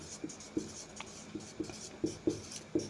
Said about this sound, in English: So I'll write here